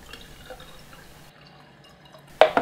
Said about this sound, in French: vous ouvrez le capuchon de votre réservoir et vous versez votre eau